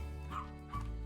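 A dog gives a couple of short yipping barks close by. Steady background noise and music continue underneath, and there is no clear talk.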